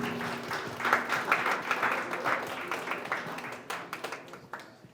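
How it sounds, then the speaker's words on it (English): Audience applause at a spoken-word poetry semi-final, a steady wash of many hands clapping in a hall that gradually thins and fades out. "Parents, can you give yourself a round of applause, and audience, for our parents who are present?"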